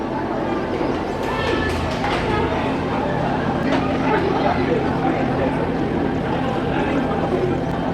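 The Saraighat Express pulls out of Guwahati station with a steady low rumble and rattle of rail cars, heard from inside the train, with people talking over it.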